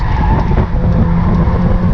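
A Mazda MX-5 race car roars loudly up close at Croft Circuit while its tyres skid and scrub through a corner, the engine drone constant throughout.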